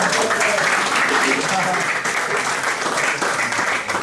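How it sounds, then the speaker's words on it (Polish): Applause for a newly chosen captain at a national team training camp, a dense steady wash of clapping filling the room from start to finish at fairly high level, with some voices mixed in. "brawa dla Miłosza"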